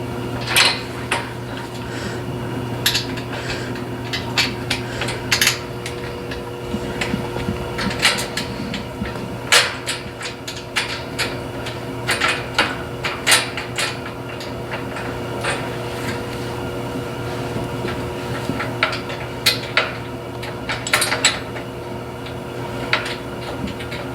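Metal bolt being fitted during installation of an outdoor cargo system, with repeated sharp clinks and taps of hardware close by, irregularly spaced over a steady low background hum, and no talking.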